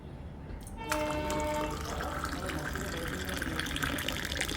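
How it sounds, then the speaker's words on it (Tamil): Water measured in a tumbler is poured into roasted wheat flour while making puttu in a home kitchen, a steady close splashing trickle that starts abruptly and runs continuously. "அதே டம்ளரில் தான் தண்ணியை அளந்து போடுறேன்"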